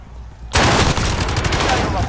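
After a brief quiet moment, a sudden, loud, dense burst of gunfire erupts and continues rapidly during a gulag fight in the Call of Duty Warzone video game.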